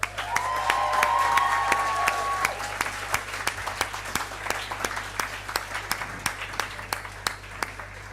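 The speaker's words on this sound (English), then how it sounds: "So can we have a round of applause," An audience applauds award winners at an academic awards ceremony, the clapping loud and dense at first, then thinning into scattered individual claps toward the end, with a faint tonal whistle or feedback early on.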